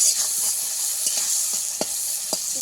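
Tomato frying in a pan for a vegetarian Bengali potol posto, giving a steady soft sizzle with a few small stir clicks and pops, close and alone.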